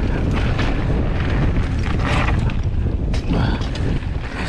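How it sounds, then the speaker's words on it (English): Strong wind buffeting the microphone on the Ike's Peak trail near Las Vegas in a continuous loud rumbling roar, with gusty swells throughout. "it's so windy."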